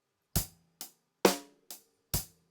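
A drum kit plays a short groove of kick and snare hits mixed with lighter hi-hat strokes in eighth notes. The hits are crisp and separated, quickly decaying, and the groove plays alone with no talk.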